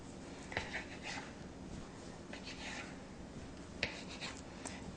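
A knife cuts soft dough into pieces for struffoli, giving a few faint scraping strokes against a board with a couple of sharper taps, close by and quiet.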